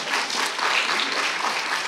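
An audience applauds loudly in a steady wash of clapping from many hands, continuing throughout without voices.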